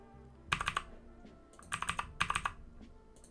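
Computer keyboard typing in bursts of rapid clicks with pauses between, on a worn keyboard whose keys stick, heard up close and alone during web development coding.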